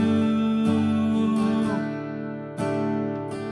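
An acoustic guitar plays the chorus of the worship song Make Room, with ringing strummed chords, two clear strums, each left to sustain and fade, no voice.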